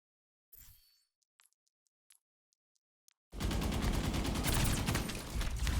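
Rapid automatic gunfire bursts loud and sustained in a first-person shooter game, following a few sparse clicks and short metallic taps in near silence.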